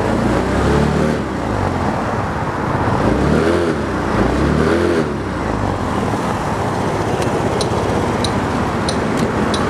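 Close by, a 2010 Honda Elite 110 scooter starts and runs, its small engine revving up and down in several rising and falling swells before settling into a steadier buzzing idle, with faint clicks near the end.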